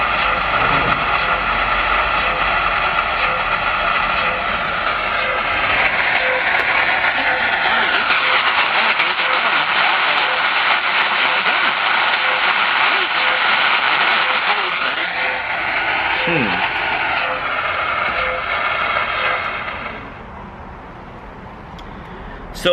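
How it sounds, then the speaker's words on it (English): A steady, loud shortwave radio tone from a web SDR tuned to the UVB-76 number station, continuous for about twenty seconds with slight wavering and warbles, overpowering the broadcast before dropping away near the end. "what you're hearing is a beep, and that beep is overpowering the broadcast of the UVB 76"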